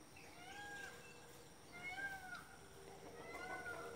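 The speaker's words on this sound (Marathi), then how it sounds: "हा मोराचा आवाज आहे." Peacocks call three times, faint and far off near mango trees in the morning, the drawn-out wail sounding almost like a cat's meow over a quiet outdoor hum.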